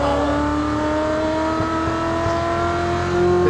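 A supercar engine on a dyno holds a steady, high-pitched roar close by, its pitch climbing slowly as it revs continuously.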